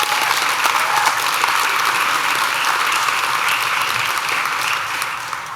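An audience applauds steadily and loudly throughout at a university Sustainable Innovation MBA inauguration, a dense, continuous clatter of many hands fading slightly at the end.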